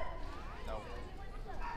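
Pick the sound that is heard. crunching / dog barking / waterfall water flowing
dog barking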